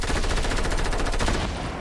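Rapid bursts of automatic gunfire from a video game shooter fill the scene, dense and loud, with no voices over them.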